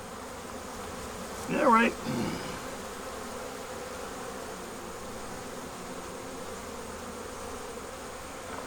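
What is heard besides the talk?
honeybees buzzing in an opened hive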